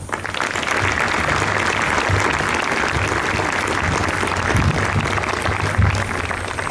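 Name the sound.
audience applause for two graduates entering the military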